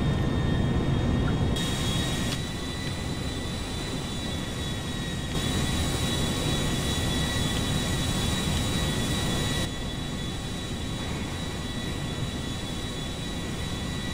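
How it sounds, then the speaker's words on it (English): An airplane in GTA V police-mod gameplay drones with a loud, continuous jet-engine roar and a steady whine at altitude, shifting slightly in tone a few times over the long stretch. "I'm gonna roll the airplane over."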